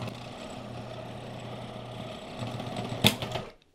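A sewing machine runs with a steady low mechanical hum and whir, building slightly before a sharp snap as the needle breaks, then stops into silence.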